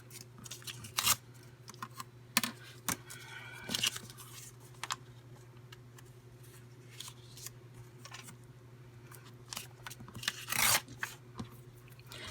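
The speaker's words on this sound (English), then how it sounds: "then we need to tear off the excess" Envelope paper being torn and rubbed by hand at a craft table, a string of short dry rasping rips and crinkles spread through the stretch, close and fairly quiet over a steady low hum.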